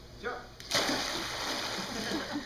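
A person jumps into water with a loud splash that churns on for a couple of seconds, with a faint voice just before.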